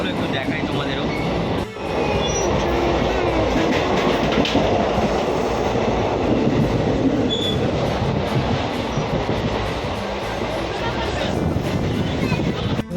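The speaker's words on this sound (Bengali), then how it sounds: "এখন আছি তিস্তা দর্শা এক্সপ্রেসে তো এটা হচ্ছে রিজার্ভেশন বগি" Inside a reserved coach of the Teesta Torsa Express, 13142, running from Siliguri to Kolkata, with a loud continuous rumble of wheels on rails, rhythmic clatter and occasional squeal, and voices murmuring through it.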